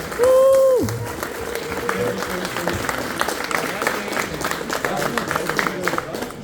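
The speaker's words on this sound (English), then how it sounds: "Give a round of applause." Crowd at a Rise of Kingdoms Q&A event in Frankfurt claps loudly and continuously, with a brief tonal electronic sound at the start and murmuring voices mixed into the applause.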